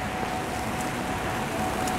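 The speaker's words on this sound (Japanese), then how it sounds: "雨なんです。" Rain falls at an outdoor football stadium in Osaka, a steady dense hiss of droplets with faint background noise throughout, fairly close and constant, with no talking.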